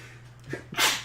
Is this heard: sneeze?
yes